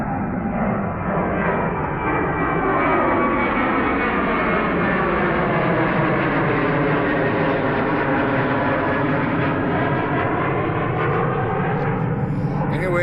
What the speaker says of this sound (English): Here comes a Southwest 737.